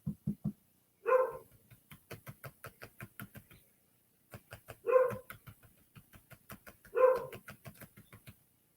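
A pet bird mimics a dog's bark indoors: three loud, harsh barking bursts come at irregular intervals, separated by quieter rhythmic tapping and clicking, with no talking.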